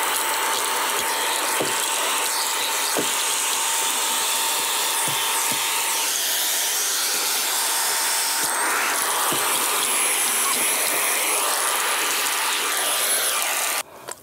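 A Fanttik X100 Mix handheld vacuum on its lowest setting, sucking up debris: a steady airy hiss with a thin whine, broken by scattered small clicks and rattles.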